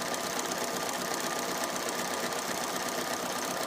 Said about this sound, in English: I'm just doing a bit of a tighter stitch